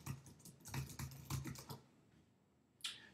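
Computer keyboard typing, a quiet close run of irregular key clicks for about two seconds, then a pause and one last sharper tap, with no voices.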